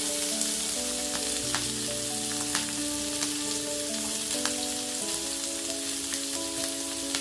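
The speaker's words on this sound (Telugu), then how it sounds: "చక్కగా నూనెలో వేగనిద్దాం." Onions and green chillies frying in hot oil give a steady, close sizzle with light crackles throughout, no voices over it.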